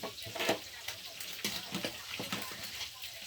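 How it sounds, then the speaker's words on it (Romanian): Homemade fluffy slime being stirred, soft wet squelching and sticky clicks in an uneven rhythm, close up, with a voice talking over it. "Se amestecă."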